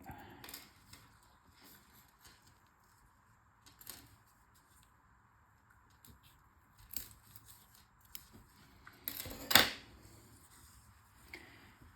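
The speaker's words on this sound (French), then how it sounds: "On va couper, on va faire doucement en tirant dessus quand même." Scissors snipping through material while a photo display panel is being made, a few soft cuts spread out and then a louder, sharper snip near the end, fairly close in a quiet room.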